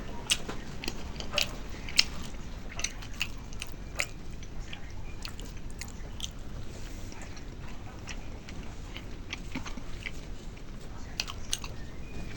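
Close-up chewing and biting of flour flatbread (maida roti), a steady run of moist chomps and soft crunches continuing without pause, with a faint background hiss.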